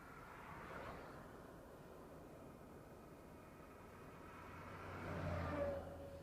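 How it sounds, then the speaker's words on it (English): Vehicles pass along a flooded stretch of Highway 87 on the Bolivar Peninsula during rising tides from Cristobal, a steady wash of engine and tire noise swelling near the end as one goes by, fairly faint and distant. "And there's some vehicles passing."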